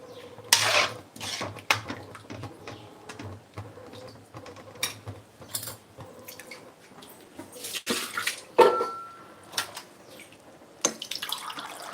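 Water splashes and trickles in bursts against a metal pot, with clinks and kitchen clatter throughout, no voices.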